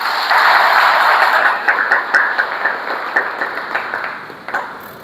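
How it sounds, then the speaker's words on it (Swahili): A church congregation bursts into applause for Jesus during a Holy Thursday sermon, a dense wave of clapping that thins into scattered, fading claps. "Pigia Yesu makofi."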